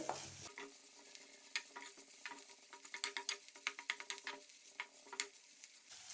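Freshly pounded ginger and garlic fry in hot oil as a spoon stirs them, giving a close, steady sizzle with repeated sharp scrapes and clicks against the pan and no talking.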